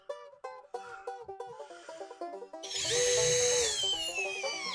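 A Dongcheng cordless drill, speed 2 in drill mode, whirs in short bursts, then a steady high whine as a deck screw drives into pressure-treated wood, close and clear with no talking.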